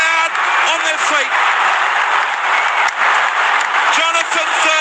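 Rugby league stadium crowd roaring and applauding as the Cowboys win the 2015 Premiership grand final with an extra-time field goal; a loud, continuous wash of cheering and clapping with a commentator speaking over it.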